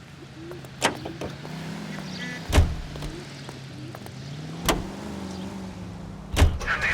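Car driving in the video game L.A. Noire, a steady low engine hum with a few sharp thumps and bumps scattered through, no talking.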